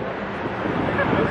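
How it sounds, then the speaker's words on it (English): Strong wind blasts into the microphone at an outdoor car meet, a loud, steady, rumbling roar that buffets continuously throughout. "It is so windy."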